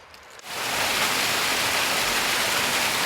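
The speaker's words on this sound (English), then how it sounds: "I found a secret waterfall." A small waterfall tumbling down a rocky creek along Horsethief Creek in British Columbia, a dense steady rush of water that swells in within the first half second and then holds at a constant, close, full roar.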